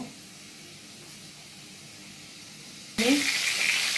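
Prawns drop into hot oil in a pan, and after a quiet low hum a sudden loud sizzle bursts in and keeps crackling steadily to the end.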